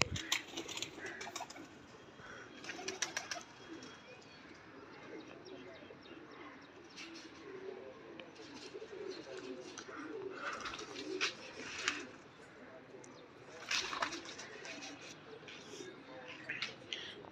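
Soft pigeon coos repeat steadily over a busy outdoor background, with brief flutters and chirps breaking through now and then.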